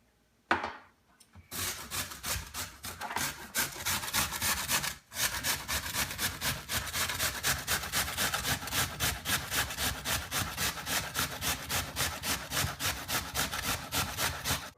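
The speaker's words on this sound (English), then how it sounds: "Okay, and now I'll grate the regular russet potato." Russet potatoes, including a white russet and a Russet Burbank, rubbed over a grater for hash browns: a steady, rapid, rhythmic rasping that runs close and continuous for many seconds after one brief pause near the start.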